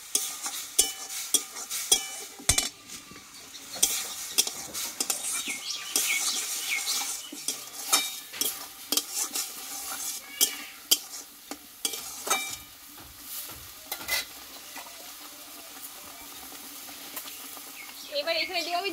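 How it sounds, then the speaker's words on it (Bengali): Spice paste being sautéed and stirred in a pan for an egg and long bean dish: steady sizzling frying with repeated scraping stir strokes, close and continuous throughout. "যাতে জলটা চলে যায় সেইভাবে আমি একটু টাইম নিয়ে আমি ভালোভাবে কষিয়ে নেব।"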